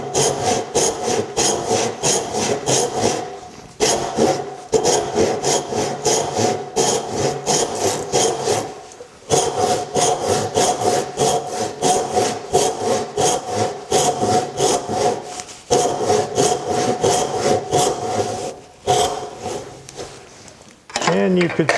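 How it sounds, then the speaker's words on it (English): An Atkins backsaw cutting the cheek of a tenon in wood, a steady rhythmic rasp of push and pull strokes, loud and close, pausing briefly a few times and then resuming. "I'm cutting what's called the cheek of the tenon"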